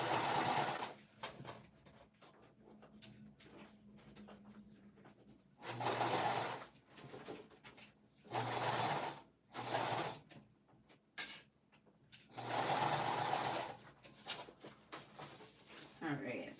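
Home sewing machine stitching a Dragon Hugo bag with a widened stitch length, short whirring bursts separated by pauses, with someone talking between and over the runs.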